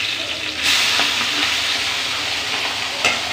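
Pabda fish frying in a pan, a steady loud sizzle and spatter with a sharper burst of hiss partway through and occasional pops, no voices.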